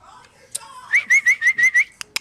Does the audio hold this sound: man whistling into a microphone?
yes